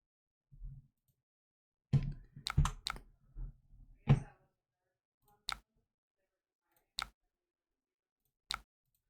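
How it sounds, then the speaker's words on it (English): Computer mouse clicks during an online card game, a cluster of quick clicks followed by single sharp clicks spaced a second or more apart, close and otherwise quiet. "Man, I just keep clicking through things, man."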